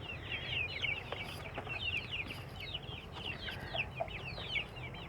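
Free-range village chickens, one to two months old, keep up a busy chorus of high, overlapping clucks and chirps at close range over a low background hum.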